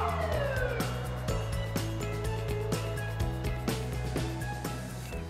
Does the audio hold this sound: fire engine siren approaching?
yes